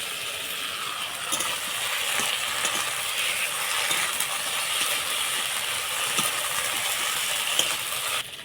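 Ground ginger and green chili paste sizzles steadily in a pan for a light bata fish curry, a continuous close hiss with faint scrapes and no talking.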